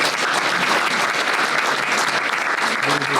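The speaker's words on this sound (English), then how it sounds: "give her a great round of applause" An audience at a college spring expo luncheon claps loudly and steadily for a speaker, a close, continuous round of applause with faint voices mixed in.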